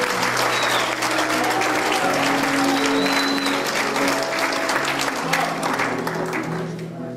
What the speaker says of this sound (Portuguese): Vocês não vão aplaudir não, gente?